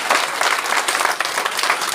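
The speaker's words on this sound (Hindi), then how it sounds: "इनको दिल से ताली बजाओ भाई।" An audience claps at a 26 January event, dense and continuous applause from a crowd close by, steady for the full two seconds.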